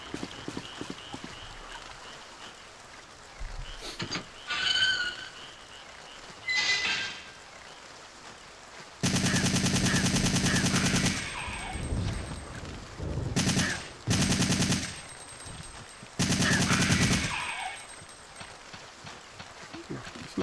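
Enemy gunfire in the video game Biohazard 3 comes in loud, sustained automatic bursts separated by quieter stretches, with a player's voice talking at times between the shots.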